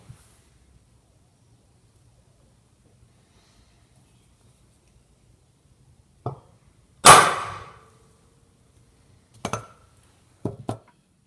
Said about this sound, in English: So let me go ahead and center punch this center hole, the input shaft hole